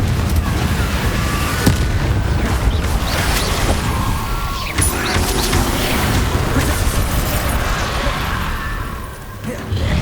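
A Confringo blasting spell from Hogwarts Legacy detonates amid dense, continuous game combat noise, with loud crashing bursts and rumbling booms layered over a sustained roar, plus some talk.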